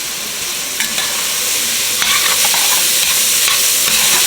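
Onion and tomato paste sizzle loudly in a hot pan for hamburger helper, with a spoon scraping and stirring through the frying at close range, no voices.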